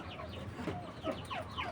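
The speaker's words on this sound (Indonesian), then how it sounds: "di kandang ini saya khususkan untuk ayam jenis lokal" Local-breed chickens, hens and roosters, clucking in a coop, several short overlapping clucks and calls, soft and close, with no people talking.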